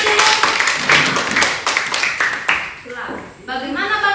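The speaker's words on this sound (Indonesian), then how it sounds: "Kasih tepuk tangan dulu" Students in a classroom clap together in a lively burst lasting about two and a half seconds. The applause stops and the teacher resumes speaking.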